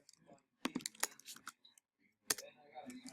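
Clicky keystrokes on a computer keyboard come in short bursts with pauses between them, close and fairly quiet, with faint background sound.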